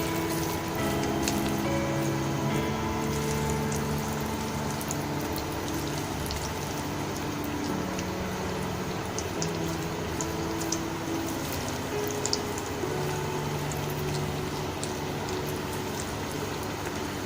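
Hot oil spooned over potato egg scotch frying in a pan, a continuous bubbling sizzle with crackling spatters, steady and close.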